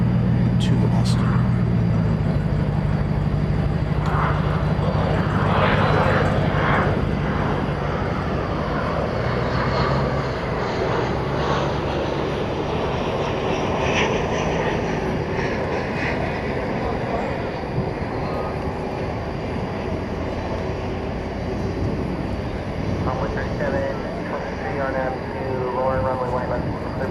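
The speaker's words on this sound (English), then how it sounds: "We also have a mainline American Airlines plane getting ready to take off to Austin, Texas." American Airlines mainline narrow-body jet taking off at night from Dallas–Fort Worth for Austin, Texas, a loud sustained engine roar with shifting tones as it powers up, with a voice talking over it.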